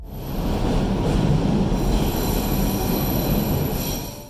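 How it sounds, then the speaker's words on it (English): Subway train wheels squeal loudly and steadily against the rails around a sharp curve at Kennedy Station in Toronto, a sustained high metallic screech over a rumbling, rattling roar of moving cars. "The trains are loud, particularly going around the corner at Kennedy Station"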